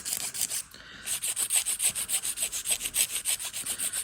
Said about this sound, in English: when you're filing the nails back and forth